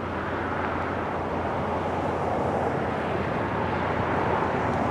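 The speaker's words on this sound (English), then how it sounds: "C-130's been doing some touch and goes." A C-130 military transport aircraft flying touch-and-go landings near a military airfield fills the air with a steady, broad engine roar, distant yet loud and unbroken, with some wind noise and no voices.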